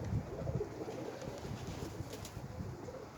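Domestic pigeons outdoors on a windy day, soft low cooing repeated several times at close range, with faint wing flutters and breezy background noise.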